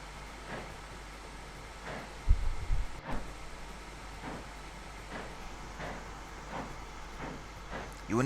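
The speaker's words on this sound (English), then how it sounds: "I'm just going to drive the train while we're waiting." A train rolling along in Train Simulator 2018 on the Somerset Hills Railway, with a low steady rumble and evenly spaced rhythmic clacks, a louder thump partway through, heard alone without talk.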